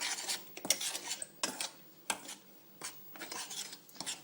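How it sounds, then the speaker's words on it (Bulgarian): Homemade play dough mixture being stirred in a bowl, giving repeated scraping and clinking strokes of a utensil against the bowl in an uneven rhythm, close and fairly quiet, with no talk. "Разбъркайте пак хубаво."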